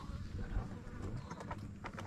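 Flies buzzing close by, a steady insect drone with small rises in pitch, heard alone against a low rumble outdoors on a hill.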